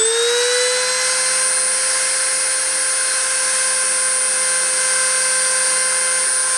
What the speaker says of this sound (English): So I'm going to start the spindle and start the deposition.